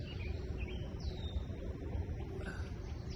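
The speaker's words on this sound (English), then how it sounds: "You can probably hear the birds." Birds chirping outdoors in the morning, with several scattered tweets and short calls over a constant low background rumble.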